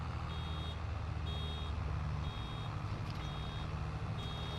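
Regular electronic tractor reversing beeps in Farming Simulator 22, repeating about once a second over a steady low engine rumble.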